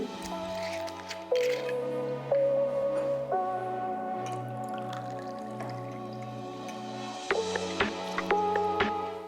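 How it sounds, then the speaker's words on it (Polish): Cocktail ingredients, including lemon juice and vodka, are muddled inside a shaker, giving soft squishing and dripping sounds with light taps over steady background music. "W środku shakera wszystko delikatnie sobie ugniećmy."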